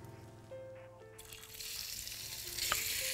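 Small chicken pieces dropped into a spoonful of hot oil, a steady sizzle rising and brightening into a loud hiss after a quiet start, close up, no voices.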